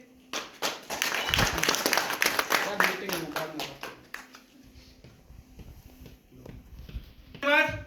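A few seconds of brisk clapping from a seminar audience for a speaker, quickly fading to scattered claps and quiet room noise, with a voice speaking briefly at the end.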